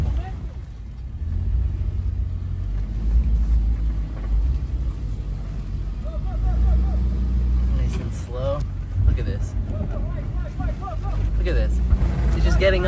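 A triple-locked Toyota Land Cruiser 80 series climbs a steep off-road hill slowly, its engine a steady low rumble throughout with a few brief louder surges, while people talk over it.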